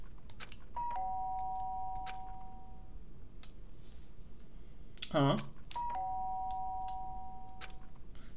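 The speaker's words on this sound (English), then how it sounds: "The sharp sound of the doorbell pissed my sleepy ears and pulled me back to the real world" A two-tone doorbell chime from the video game Danganronpa rings twice, clear and prominent over a low steady hum, with a short sharp rustle between the rings and a voice briefly muttering.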